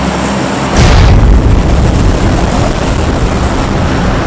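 A loud, continuous roaring drone of the transport aircraft in the video game PUBG, starting with a sudden swell and holding steady near and dense, with no voices.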